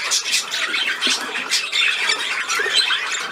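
A seagull squawks repeatedly in harsh, close, fairly loud cries with short gaps between calls.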